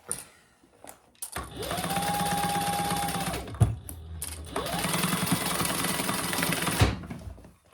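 Two sustained runs of a sewing machine stitching a crossbody bag, a fast close mechanical whir with a brief pause and clunk between them, no voices.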